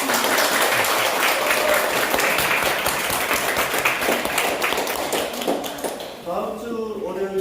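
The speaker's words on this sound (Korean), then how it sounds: "다시 한번 큰 박수 부탁드립니다" Audience applause at the close of a history lecture at a civic democracy school, a dense sustained wash of clapping from a roomful of people that thins toward the end as a voice starts speaking.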